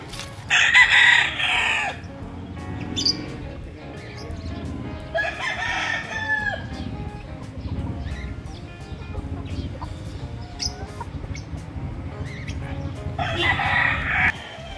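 Gamefowl roosters, including a yellow-legged pumpkin sweater, crow loudly and nearby in a Rosario, Batangas breeder's yard, with three long crows spread across the stretch and steady clucking and farm-animal murmur filling the gaps.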